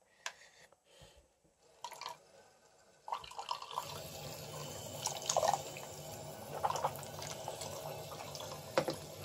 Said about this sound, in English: Crap, it's leaking.